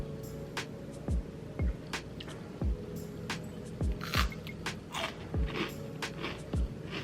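Close, moist crunching and chewing of smoked Gouda crackers, soft bites repeating about every half second against a steady background hum.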